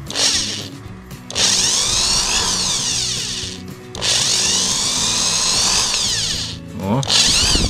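An Intertool DT 0103 cordless drill runs at third speed in close, loud bursts of high whine, three long runs separated by brief pauses, with a faint voice between them.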